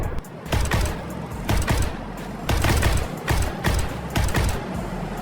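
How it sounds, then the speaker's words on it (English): Combat footage of armored personnel carriers trading fire in Kursk, a Russian APC shooting at an American Bradley: loud, heavy bursts of automatic gunfire over a constant rumbling roar, close and harsh throughout. "It opens fire and shoots directly at the American APC."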